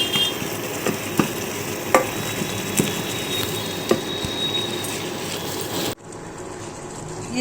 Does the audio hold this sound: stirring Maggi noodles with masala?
yes